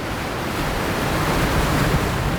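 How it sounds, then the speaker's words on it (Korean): Ocean waves crash on the rocky coast of Sokcho in winter, a dense, steady roar of surf with some wind and no voices. "바위에 부딪히는 파도 소리가 신령한 검은고 소리 같다고 할 만큼"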